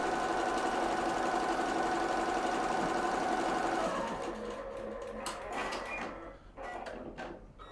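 An Echidna Halo-100 embroidery machine runs with a loud, steady buzzing stitch that stops partway through, followed by mechanical clicks and clunks as the machine shifts.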